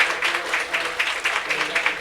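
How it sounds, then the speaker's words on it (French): An audience at a regional corporate meeting in Antigua applauds for an honoured team leader, a dense, steady wash of many hands clapping in rhythmic waves throughout. "je veux un applaudissement pour Raoul"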